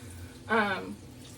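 Four cups of liquid pour into a pot of beans in a home kitchen, a short close gurgling splash under faint room noise.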